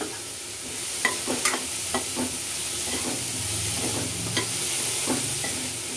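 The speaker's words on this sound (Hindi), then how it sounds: "थोड़ा सा सौते करेंगे सभी को।" Diced onion, capsicum and cabbage sautéing in a pan for veg Manchurian gravy, a continuous sizzle broken by repeated scraping stir strokes, close and fairly quiet.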